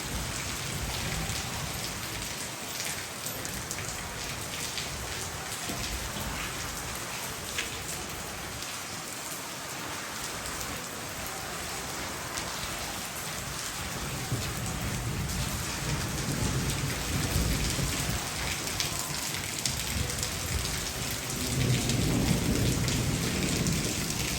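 Steady heavy rain pours down during a strong windstorm over wheat harvest work in Punjab, with a continuous dense hiss and low rumbles of thunder building toward the end; no talking.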